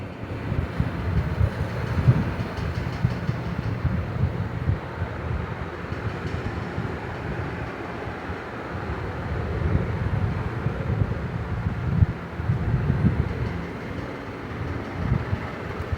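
A sewing machine runs steadily around the edge of umbrella dress fabric, giving a continuous low mechanical hum and whir that stays even throughout with no pauses.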